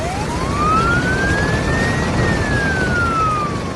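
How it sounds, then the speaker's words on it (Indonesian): A fire truck siren wails loudly, its pitch sweeping slowly up and then falling, over a steady engine rumble close by. "truk pemadam kebakaran itu datang seperti pahlawan dengan sirine yang menderu keras"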